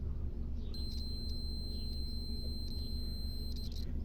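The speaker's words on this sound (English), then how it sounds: "if I touch the two prongs together, you should hear this beep" A multimeter on continuity test beeps as its two probes touch, checking wiring between a car's rear fog light and its electrical connection block: a steady, thin high electronic tone holding for about three seconds, fairly quiet over a low hum.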